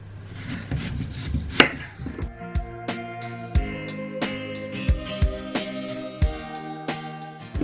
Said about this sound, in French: je vais couper la patate douce en rondelles